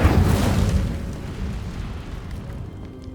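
The Incendio fire spell from Hogwarts Legacy erupts with a loud whooshing burst of flame that swells at once and then fades into a rumbling, crackling tail.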